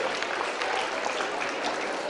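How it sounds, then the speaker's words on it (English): Students clap for a correct answer to a math question, a soft, even wash of many hands heard from some distance without distinct individual claps. "Give a big round of applause"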